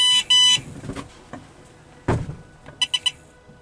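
A Pathfindr social distancing aid sounds its alert modes: a pair of loud, steady electronic tones at the start, a dull thump midway, then three quick, evenly spaced beeps near the end, with no talking.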